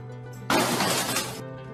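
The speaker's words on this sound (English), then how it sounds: "Passenger in red SUV must have shot the back windshield of a minivan." The back windshield glass of a minivan shatters in one loud, sudden burst, followed by about a second of spraying, tinkling fragments that then fade.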